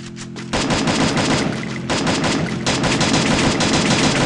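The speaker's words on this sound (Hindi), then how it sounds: "गोलियां पड़ रही है" Loud, dense bursts of rapid automatic gunfire in the battle royale video game Garena Free Fire, a near, continuous rattle broken by a short gap.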